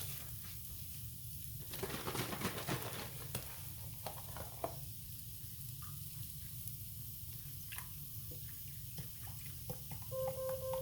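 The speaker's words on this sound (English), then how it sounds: "Let me pour my chicken broth in here." Chicken broth pours into a hot pot and sets off a loud burst of sizzling, which settles into a steady crackling simmer with scattered clinks.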